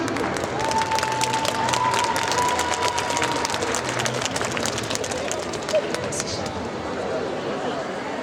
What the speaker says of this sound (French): je vais vous demander d'applaudir très très fort le personnage de Wu Tao